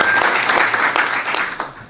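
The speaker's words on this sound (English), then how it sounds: "Please join me in a round of applause for the museum staff and volunteers." An audience at an evening event honouring county history museum staff and volunteers breaks into brief, close, fairly loud clapping that stays dense through the moment.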